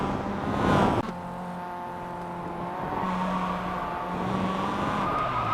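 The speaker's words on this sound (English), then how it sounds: "And that's the blue car going off" Race car engines in a racing video game, a steady whining drone with shifting tonal pitch as the blue car goes off, one brief louder swell early on and no talk.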